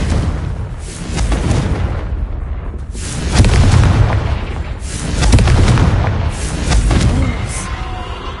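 Spell explosions in the Hogwarts Legacy video game, several loud booming blasts in a row with crackling bursts between them, a thick low rumble throughout.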